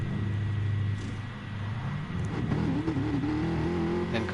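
In GT Sport at Brands Hatch, a race car pulls out of the pits with a low engine drone that rises in pitch as it accelerates, with a steady rumble underneath.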